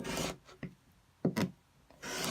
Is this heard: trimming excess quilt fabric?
yes